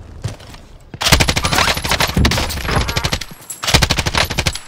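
Rapid machine gun bursts from a PKM in the Call of Duty Warzone shooter game (Cold War season 2) rattle loud and close, with a brief quiet gap before several long sustained volleys.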